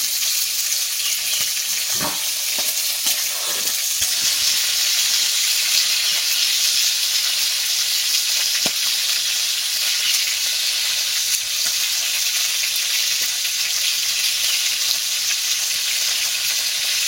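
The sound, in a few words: fish frying in a pan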